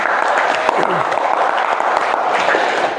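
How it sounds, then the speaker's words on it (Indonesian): Classmates clap together in a classroom for a student, a brisk, fairly close burst of applause that fills the whole moment with no one speaking over it. "Tepuk tangan dulu untuk Warni."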